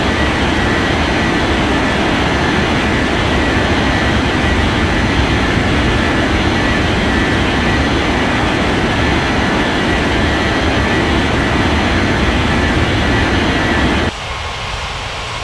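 An airliner's jet engines roar in an air traffic control video game, a loud, steady takeoff rumble that holds for about fourteen seconds before dropping to a lower level.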